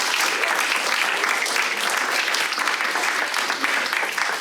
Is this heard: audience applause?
yes